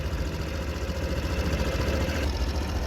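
A Honda Super Cub AA04 fuel-injected moped engine runs steadily at close range, a continuous low idle-like drone with slight rhythmic pulsing and no voices.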